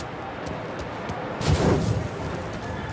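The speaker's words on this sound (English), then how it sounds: "Use a Molotov and let's see some flames." A thrown Molotov cocktail bursts into flames in Mafia Definitive Edition, a muffled low whoomp swelling briefly mid-clip over steady game background noise.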